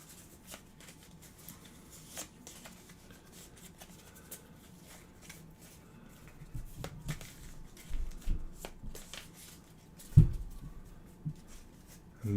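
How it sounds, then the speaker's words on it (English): A deck of cards for a fantasy adventure card game is shuffled at a table, with soft irregular riffling and tapping that grows busier toward the end, quiet and close with no talk. "Give it a shuffle here."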